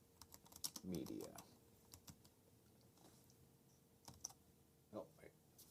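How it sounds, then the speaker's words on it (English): Quick bursts of typing on a computer keyboard, light clicky keystrokes in irregular runs, quiet and close, with a voice murmuring briefly in between. "I don't like this keyboard."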